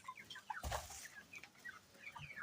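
Chickens on a poultry farm cluck and chatter close by, with several short, overlapping calls and one louder flurry near the start. No voices are heard.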